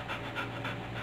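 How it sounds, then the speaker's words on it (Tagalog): A dog pants close by in quick, rhythmic breaths, about four soft puffs in a second, quiet and alone. "Nag-ingay na naman ang aso, Mac."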